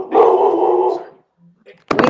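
A dog gives a loud, sustained bark-howl up close, then a short pause with a faint whimper before another sharp bark bursts in at the end.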